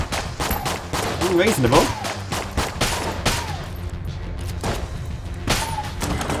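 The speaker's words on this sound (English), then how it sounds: "I never even tried this gun. Unfinished gun." Rapid bursts of the Unfinished Gun firing in the video game Enter the Gungeon, a dense run of loud repeated shots with game effects, while a voice talks over the shooting.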